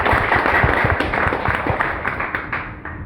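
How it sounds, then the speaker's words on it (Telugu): Audience clapping at a Telugu-language talk, a brief burst of hand claps from a crowd that tapers off over a few seconds. "క్లాప్."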